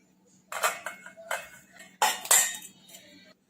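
Fried potatoes are moved into a bowl for aloo chaat, with a few separate clinks and scrapes of metal utensils against dishes, close and crisp with quiet pauses in between.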